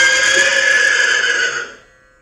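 A horse whinnies in a historical stage drama, one long loud close neigh that fades out near the end with no talk over it.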